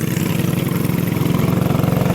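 A small TrailMaster MB200 minibike engine runs close by with a fast, steady putter, a rhythmic low pulsing without any talk.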